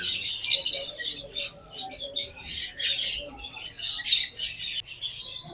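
Caged pet birds, including a pair of grey Java sparrows, chirp and tweet continuously at a bird market in Burewala, a busy overlapping chatter of high calls up close.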